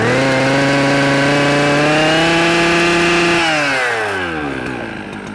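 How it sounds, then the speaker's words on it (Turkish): Large chainsaw running at a steady high-revving whine, loud and close, then the engine pitch drops as it winds down toward idle near the end, with no talk. "Koca testere ne yapayım?"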